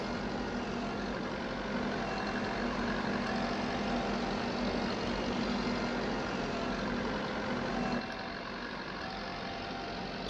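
A tractor engine in Farming Simulator 22 runs at a steady idle throughout, a continuous low drone. The sound drops slightly in level near the end.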